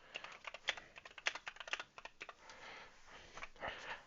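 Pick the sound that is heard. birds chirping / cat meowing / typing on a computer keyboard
typing on a computer keyboard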